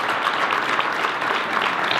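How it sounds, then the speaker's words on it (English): Steady, moderately loud clapping from an audience at a school board meeting, sustained evenly throughout without any talking. "how about a nice round of applause?"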